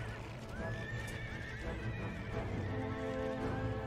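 Cavalry horses clash in a battle in the strategy game Empire: Total War, with continuous galloping hooves, whinnies and neighs rising over the din, and a sustained battle noise underneath throughout.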